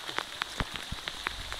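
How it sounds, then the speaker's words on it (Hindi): Heavy rain pours steadily onto a surface during a storm in Bihar, with distinct drops striking in an irregular patter over a continuous wash, close and fairly loud. "बारिश बहुत तेज हो रही है।"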